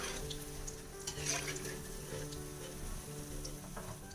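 Banana flower fritters frying in hot oil, a steady dense sizzle holding at an even level throughout, close and continuous with no voices.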